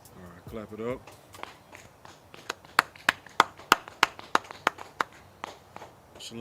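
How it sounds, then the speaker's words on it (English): Hands clap in a steady rhythm at a brotherhood gathering in Houston: about a dozen sharp, evenly spaced claps ring out close by after a brief voice at the start. "Clap it up."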